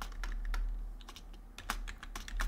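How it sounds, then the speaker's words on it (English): Rapid, uneven keystrokes on a computer keyboard, close and fairly quiet, with irregular clusters of clicks and short pauses while working through a chemistry equilibrium calculation; no voices. "So much typing because I don't want to actually calculate it myself."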